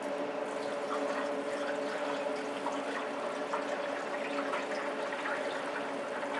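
A small amount of gasoline is poured into the fuel tank of a Kohler SH265 6.5HP engine, making a steady, continuous liquid trickle and gurgle up close, with no talk.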